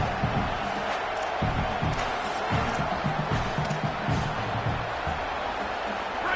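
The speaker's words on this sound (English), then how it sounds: "how nice is it to have the home crowd going absolutely bananas?" A roaring home crowd in a college football video game keeps up a dense, steady wall of cheering and chanting throughout, loud and continuous with no breaks.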